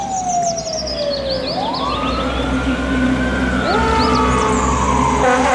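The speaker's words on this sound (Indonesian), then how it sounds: "Mobil truk pemadam kebakaran." A toy fire truck's electronic siren wails loudly and continuously, its pitch sweeping down, then up, then shifting again, with faint chirpy tones above and no talk.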